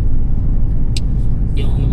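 A car drives along a thinly snow-covered road in Greenland in December, a loud steady low engine and road rumble heard from inside while someone talks over it.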